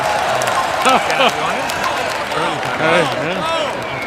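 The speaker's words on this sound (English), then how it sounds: "Listen to the crowd. The crowd wants him to." A crowd at a curling match, the 2014 Continental Cup team competition in Las Vegas, applauds and cheers steadily throughout, with commentators talking over the noise.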